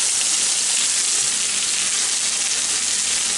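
Steady, loud sizzling of cube steak frying in a pan with previously cooked onions added, a continuous hiss with no pauses and no talking.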